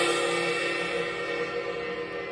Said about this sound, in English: you're gonna get a cymbal that sounds like this